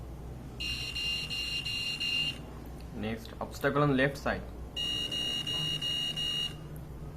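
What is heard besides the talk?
electronic buzzer beeping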